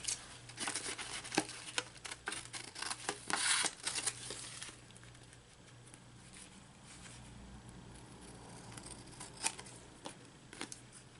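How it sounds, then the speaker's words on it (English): Scissors snipping excess plastic Temu packaging for a steampunk journal pocket; close, quiet, irregular cuts with crinkling and rustling of the material, no talk. "we're just going to cut the excess off"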